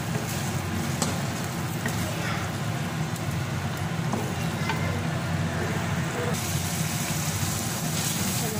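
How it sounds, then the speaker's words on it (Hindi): Boiled black daal being fried in a pan with village-style cooking, a continuous dense sizzle and crackle with a low rumbling undertone and a few faint clicks. "अल्हम्दुलिल्लाह आप देख सकते हैं कितने अच्छे से हम इसे भून रहे हैं।"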